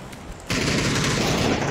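Dense, rapid gunfire in PUBG erupts after a brief quiet moment and continues as a sustained, loud burst of shots.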